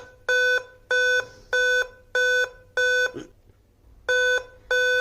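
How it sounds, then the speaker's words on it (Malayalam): A Dell laptop with an LA-B843P motherboard and no display emits a motherboard beep code: loud, clear electronic beeps in a regular series, five in a row, a short pause with a faint click, then two more. "ഇത് ബീപ്പ് കോഡ് അടിക്കുന്നുണ്ട്, സൗണ്ട് ബീപ്പ് കോഡ് അടിക്കുന്നുണ്ട്"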